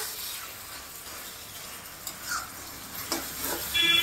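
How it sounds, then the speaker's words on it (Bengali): Chicken masala sizzles steadily as it is stirred and fried in a pan, with a constant hiss of frying and occasional soft scrapes of the spoon, close and with no voices. "আমি ভালো করে এটাকে নেড়ে ভাজছি।"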